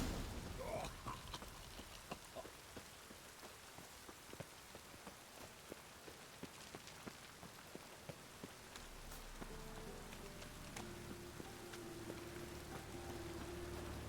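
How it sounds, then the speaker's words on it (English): Steady rain pours in The Witcher 3 game world, a constant even hiss with scattered drop ticks, and a low hum rising in the last few seconds. "Rain"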